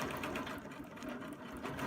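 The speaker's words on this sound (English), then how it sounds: "I'm going to stitch out enough that I can get that lined up and then back." Home sewing machine stitching a curved arc of a fan quilting design along a ruler, a steady fast mechanical whir and rattle running throughout, close and fairly quiet with no speech.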